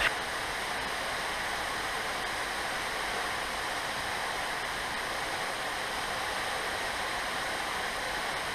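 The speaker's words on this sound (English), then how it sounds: "That's from the waterfall." Shellburg Falls waterfall roars as a steady, broad rush of falling water, close and loud, holding an even wash of white-noise-like splashing with no break for the whole stretch.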